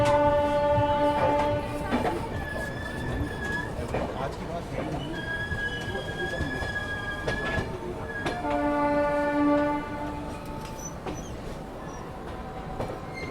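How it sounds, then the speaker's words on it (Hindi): The Mewar SF Express train departs Hazrat Nizamuddin station, rumbling along with clattering wheels and metallic squeals, while several long horn blasts ring out nearby against a busy background. "बाकी हजरत निजामुद्दीन रेलवे स्टेशन से हमारा डिपार्चर आप देख लो।"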